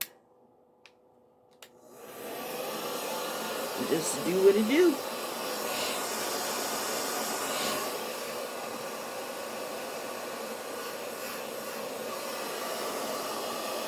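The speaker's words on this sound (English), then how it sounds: "now I'm going to take my blow dryer on warm" A hair dryer switches on and blows warm air with a steady, loud whoosh, a voice speaking briefly over the airflow.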